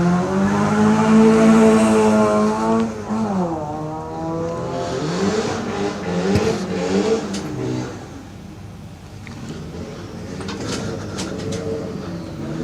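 A race car at the Legend of the Lakes Hillclimb in Australia revs hard, its engine note climbing and falling in repeated sweeps, loud at first and then fading as it pulls away.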